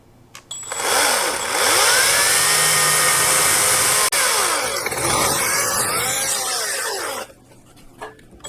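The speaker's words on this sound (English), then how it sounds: "the best thing I can figure out is the chainsaw." A chainsaw roars loud and close for about six seconds, its engine note rising and dipping as it bites into wood during a camper hauler build, then cuts off.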